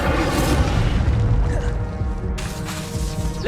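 Incendio fire spell cast in Hogwarts Legacy gameplay: a loud, dense burst of booming, crackling fire with whooshing flame that roars continuously for a few seconds, with a sharp fresh burst near the end.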